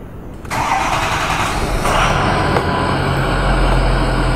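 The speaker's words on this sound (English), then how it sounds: "let's go ahead and try and crank this thing up and see if it starts" Ford Powerstroke diesel truck engine after a fuel injector install, a brief crank that quickly catches and settles into a loud, steady close-up idle.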